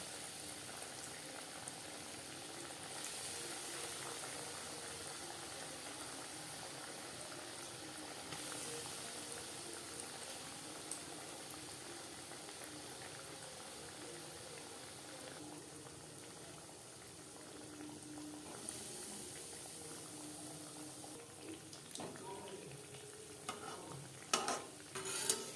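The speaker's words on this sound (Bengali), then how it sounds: "চপগুলো ভাজবো" Vegetable chops fry in hot refined oil over a medium flame, giving a continuous soft bubbling sizzle close by, with a few sharper clinks and pops near the end.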